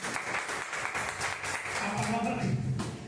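Church congregation applauding in praise to the Lord, a sustained crowd patter of many hands with voices talking and calling out over it toward the end.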